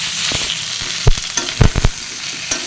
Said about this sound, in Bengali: দিয়ে ভালো করে আলু পটল ভেজে নিব।